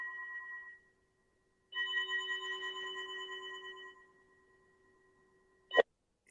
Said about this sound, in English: This is a pyramid timer, and you can get it at meditationtimer.com.